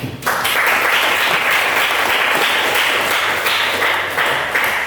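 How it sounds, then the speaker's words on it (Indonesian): Loud, steady applause from a group in a classroom, dense clapping that continues for the whole clip, close and full. "Beri aplaus buat kalian semua."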